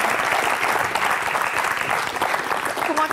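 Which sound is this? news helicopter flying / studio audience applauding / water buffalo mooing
studio audience applauding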